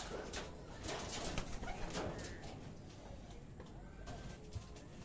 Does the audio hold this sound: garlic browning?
no